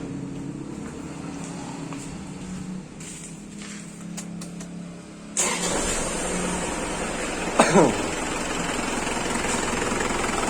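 A car engine fitted with a newly installed turbo timer runs at a steady idle, a close mechanical hum that jumps louder partway through with a brief sharp transient, no voices over it.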